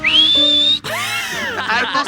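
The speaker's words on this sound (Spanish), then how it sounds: "Tenéis que hacerme el silbido gomero" Someone attempts the silbo gomero whistled language, producing a loud, close, rising whistle tone, a short break, then a series of sliding, swooping whistled pitches.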